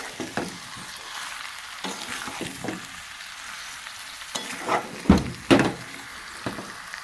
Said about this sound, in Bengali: মাছটা বেশ ভালোভাবে একটু এদিক ওদিক করে ভালোভাবে একটু কষিয়ে নেবেন